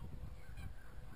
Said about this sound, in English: And we have some very cold geese here today.